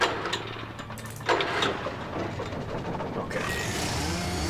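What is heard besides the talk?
chainsaws running, from the video game Alan Wake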